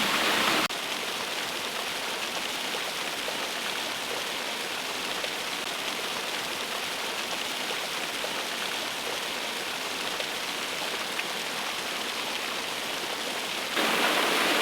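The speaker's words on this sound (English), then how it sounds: "It's just very loud with this waterfall here." Loud, steady roar of a nearby waterfall, a constant dense rush of falling water with no pauses.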